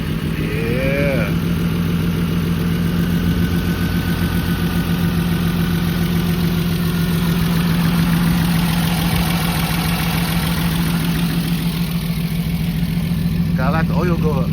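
A BMW E36 engine, started after sitting for five years, idles loud and close with a steady low drone and a faint whine, while voices talk over it.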